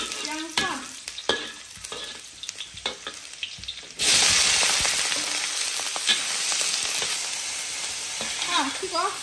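Pumpkin shoots stir-frying with ginger and garlic in peanut oil: scattered clatters at first, then a loud, dense sizzle bursts in and holds steady, with utensil scrapes and a brief voice near the end.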